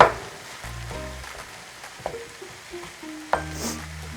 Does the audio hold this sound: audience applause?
no